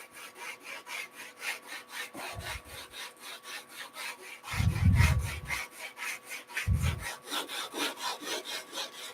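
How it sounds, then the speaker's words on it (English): Steady rhythmic back-and-forth rasping of sandpaper on wood, repeating strokes at an even pace, close and continuous with a few heavier thumps. "get some sanding work done"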